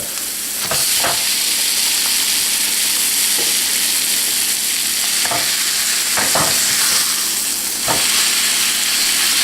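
Veal meat hits a hot pan of cooking onion and garlic, a loud continuous frying hiss broken by several sharp scraping stirs, with no one talking.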